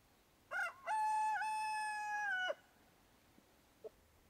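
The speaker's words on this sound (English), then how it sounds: "They're having themselves a crowing battle right now" A rooster gives one loud, close cock-a-doodle-doo lasting about two seconds as part of a crowing back-and-forth between roosters on a small farm. A couple of faint clucks follow in otherwise quiet surroundings.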